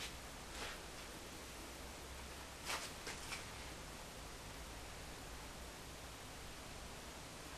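Corsair 780T PC case fans running under load make a steady, even broadband whoosh that stays constant throughout, with a couple of faint brief rustles near the start.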